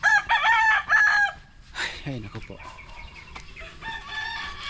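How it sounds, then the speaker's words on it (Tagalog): Fighting gamecock roosters crow loudly nearby in drawn-out calls, with clucking and a brief spoken exclamation mixed in. "mayroon siyang mga manukan pang sabong"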